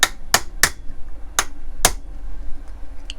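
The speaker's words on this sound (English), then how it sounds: "I'm going to knock out the pin with this here" Suzuki GS550 carburetor pin tapped out with a light tool instead of a hammer: five sharp metallic knocks in an uneven rhythm, close and crisp with quiet gaps between.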